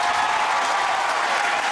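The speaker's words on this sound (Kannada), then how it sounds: "ಒಂದು ಜೋರಾದ ಚಪ್ಪಾಳೆ" A studio game show audience bursts into loud, dense applause, a steady wash of clapping throughout with no speech over it.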